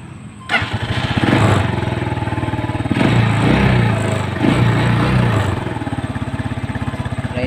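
A cheap, used-looking motorcycle engine cranks and catches, then settles into a loud, close, steady putter with slight surges in revving throughout, with no voices over it.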